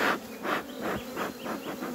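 An agitated honeybee colony buzzes in pulsing surges, a close, rising-and-falling drone of many bees with no voices over it.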